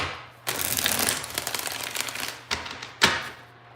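Tarot cards being shuffled, a burst of papery riffling followed by a couple of sharp card snaps, close and fairly quiet, with no talking.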